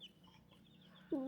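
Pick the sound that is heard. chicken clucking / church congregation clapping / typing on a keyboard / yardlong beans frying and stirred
chicken clucking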